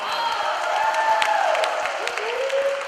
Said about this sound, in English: Let's give Hong a big clap.